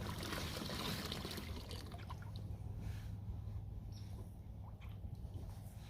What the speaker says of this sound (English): let me dump out the water here quick